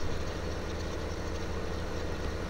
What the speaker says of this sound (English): The Case Steiger 620 is the biggest tractor in this game